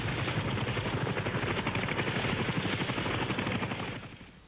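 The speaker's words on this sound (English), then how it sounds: "the crews of the Huey UH-1B helicopters, nicknamed Seawolf" A Huey UH-1B Seawolf helicopter gunship thumps overhead with steady, loud rotor chop, then the beating fades away as it moves off.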